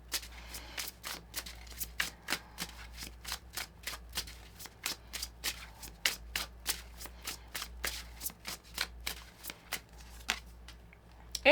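An oracle card deck shuffled by hand: a long run of quick, crisp riffling snaps in a steady rhythm, close and clear, with no talking.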